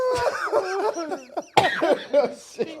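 Several sharp coughs burst out amid lively chatter and laughter from a few people close by, one loud cough standing out midway.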